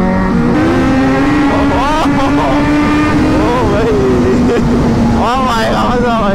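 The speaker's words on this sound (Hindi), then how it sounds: "दोनों बाइक्स बहुत ज्यादा लाउड है।" Two loud superbikes riding together on a highway, engines droning steadily with rising and falling rev sweeps as they accelerate, with a voice talking over the constant roar.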